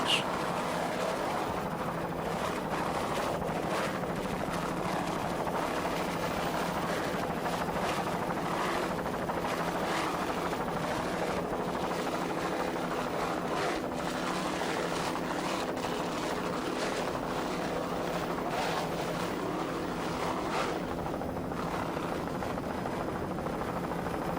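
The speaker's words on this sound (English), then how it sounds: "throttling those Stotler racing engines" Offshore racing powerboat with Stotler racing engines throttling during a 1993 offshore world championship race off Fort Lauderdale, a continuous droning engine roar mixed with wind and water noise, steady and somewhat distant.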